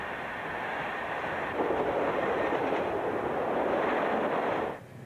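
A passenger train from Hastings rumbles steadily past, a broad continuous roar that swells midway and cuts off near the end, with no voices.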